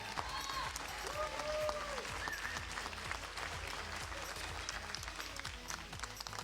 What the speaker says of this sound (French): On peut applaudir les deux équipes.